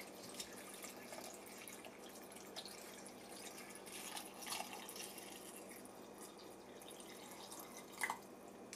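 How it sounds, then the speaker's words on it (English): Liquid, vegetable broth or water, poured into a Nutribullet RX blender pitcher, a soft steady trickling and dripping stream that runs quietly and continuously with a few brighter splashes. "For the liquid, you can add vegetable broth or water."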